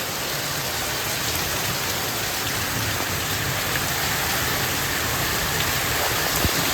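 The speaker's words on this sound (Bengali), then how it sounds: "ভীষণ বৃষ্টি হচ্ছে" Heavy rain pouring outside a home in a downpour, a loud, unbroken close roar of falling water with scattered sharper drips and no speech.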